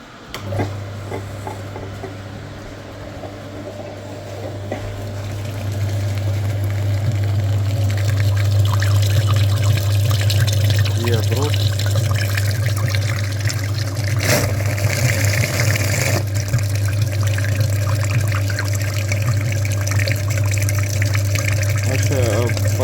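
A flushing machine motor starts up and settles into a loud steady hum, pumping coolant through a Mitsubishi Pajero Wagon 4 cooling system, with liquid gurgling and flowing through it and an occasional clunk.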